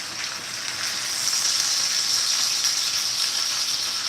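A steady, bright sizzle of chicken frying in a pan, continuous and close, with no talking.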